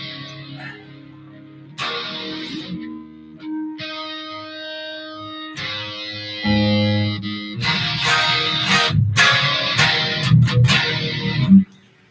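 Electric guitar played through a modeled Dumble-style amp with a Tube Screamer overdrive in front, giving loud, sustained distorted chords and single notes with breaks between phrases, growing thicker and heavier toward the end.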